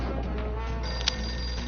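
A telephone rings inside a video game, a steady electronic trill sustained through the short stretch over constant game background noise, with one brief sharper blip partway through.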